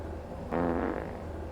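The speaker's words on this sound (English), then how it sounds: "There's a fart in this fridge." A cartoonish fart sound effect from a fridge in the video game Beacon Pines, one short buzzy burst about a second long over a steady low game-music hum.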